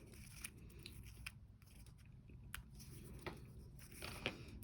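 Scissors snip excess paper trim on a tea-bag-folding Christmas card: a few quiet, close cuts and small crisp clicks spread irregularly over a soft background hiss, with no talking.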